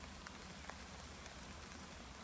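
Steady rain falls outdoors at a car dealership lot, a dense, even hiss of drops on surfaces with faint individual spatters, close and continuous throughout.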